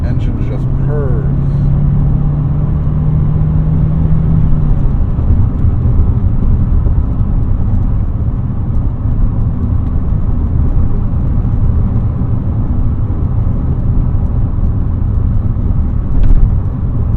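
A 1988 Honda Accord engine runs at a steady, smooth low hum, with a faint rising whine near the start, continuous and close throughout under light background noise.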